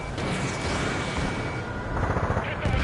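Aircraft gunfire in Ace Combat 7: a steady roaring stream of rapid fire under engine noise, ending in a few sharp, distinct bursts.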